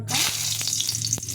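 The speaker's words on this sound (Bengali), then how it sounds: "এটা গরম হয়ে গেছে। এখন একটা শুকনো লঙ্কা" A dried red chilli dropped into hot oil for cooking Malabar spinach with mustard, a loud close crackling sizzle with a few sharp pops over a steady frying hiss, and no talking.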